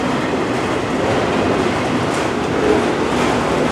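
A Norfolk Southern freight train hauling TTX autorack cars rolls past at Spartanburg, South Carolina, loud and close, with a continuous rumbling wash of wheels and rail noise and faint clickety-clack.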